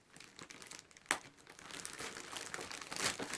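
Thick plastic packaging of a Can-Am Fire Angel FA-1 smoke detector crinkles and crunches as it is pulled and torn apart by hand, with a sharp ripping burst near the middle and steady close crackling throughout.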